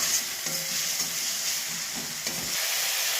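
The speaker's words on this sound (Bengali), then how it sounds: "সেই তেলেই আমি দিয়ে দিলাম পেঁয়াজ, টমেটো, আদা রসুনের পেস্ট, সব কিছুই দিয়ে ভালো করে আমি মিশিয়ে নিচ্ছি" Onion, tomato and ginger-garlic paste fry together in oil as a spoon stirs them, a soft continuous sizzle with occasional scraping strokes.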